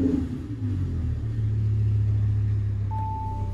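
An Audi R8 starts up and settles into a deep, steady idle, a loud low rumble that holds evenly, with a brief tone near the end and no talking.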